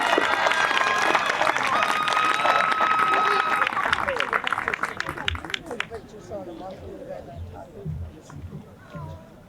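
Applause for a senior at the 2023 Pathfinder Tech graduation ceremony: a dense, loud crowd clapping for about four seconds, then thinning into scattered claps and audience murmur.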